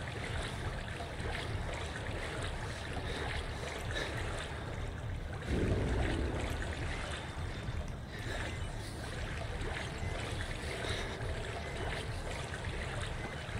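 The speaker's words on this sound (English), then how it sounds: "I hear him in the water, just like sloshing around." An enemy wades and sloshes through water in the horror game Outlast 2, a steady murky watery churning with a brief heavier splash midway, heard alone with no talk.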